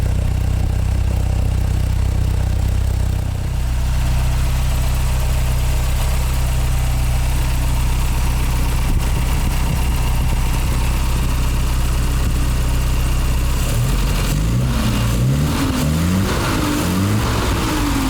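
An MGA 1600 Roadster engine idling close up with a deep, steady exhaust rumble through an inexpensive exhaust system, a brief rev partway through and uneven throbbing toward the end.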